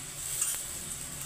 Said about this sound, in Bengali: আমি কিন্তু আমচুর দিয়ে দিচ্ছি আর দেশি আলু দিয়া এগুলো নাড়ছি